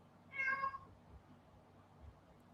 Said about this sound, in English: The cat just meowed.